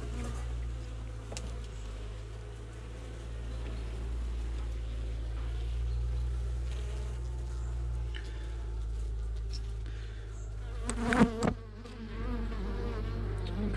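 Many honeybees buzz around an open hive during a late-autumn inspection, a dense steady hum with a low continuous drone beneath it, and a short sharp clatter near the end.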